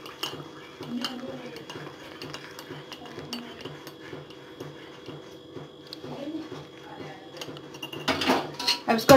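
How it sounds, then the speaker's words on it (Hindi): A spoon clinks and scrapes around a cup while instant coffee is mixed with milk, a quiet rhythmic tapping that grows faster and louder toward the end as the mixture is whisked for froth. "अब इसको अच्छे से मिक्स कर लेते हैं हम लोग।"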